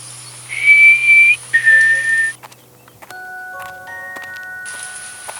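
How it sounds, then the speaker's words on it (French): Soft tonal whistling in two short phrases, clear and fairly close, followed by quieter scattered tones and a faint steady hiss. "entendit un doux sifflement"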